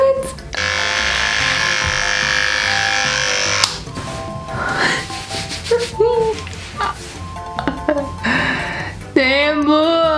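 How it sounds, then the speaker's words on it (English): Electric clippers buzz steadily at close range while shaving off bleached, dyed hair at home, a continuous drone for about three seconds that then breaks into intermittent passes and scraping, with a few short voiced sounds near the end. "Let me just shave everything off."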